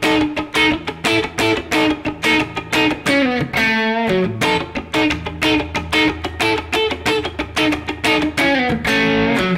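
Funk rock backing track driven by a tight 16th-note groove, with choppy distorted guitar stabs and punchy drums in a steady, syncopated rhythm, loud and unbroken apart from a brief held chord.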